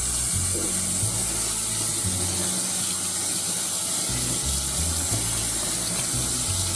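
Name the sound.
hot tap water rinsing cooked pasta shells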